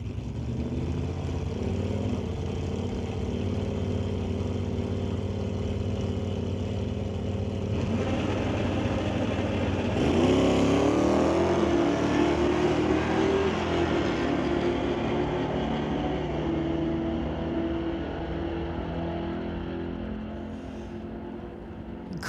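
A 1999 Camaro with a 408 engine at a drag strip semifinal, a continuous loud engine drone that swells and rises in pitch midway as the car launches, then holds a strained high rev before easing.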